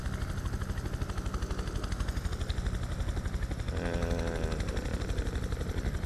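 A video game helicopter's rotor thumps in a steady, rapid rhythm, loud and close, with a faint rising engine whine partway through.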